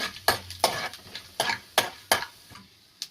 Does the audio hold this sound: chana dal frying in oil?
yes